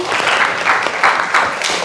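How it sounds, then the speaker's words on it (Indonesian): Classroom applause from students, a short burst of clapping in pulsing waves, fairly loud and close, with no talk over it. "Tepuk tangan."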